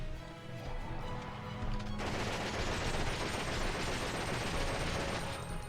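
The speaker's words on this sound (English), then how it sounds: "I'm going to be using the submachine gun on him" Dense submachine gun fire in Resident Evil Outbreak crackles continuously over boss music, becoming a louder sustained burst of rapid shots halfway through.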